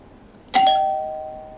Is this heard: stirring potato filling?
no